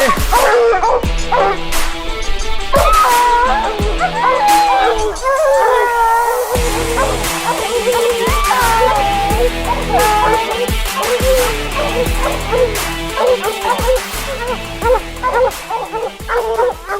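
Hunting hounds bay and yip hard on a mountain lion hunt in the Colorado backcountry, several dogs crying over one another nearly without pause, loud and close, with a short lull partway through.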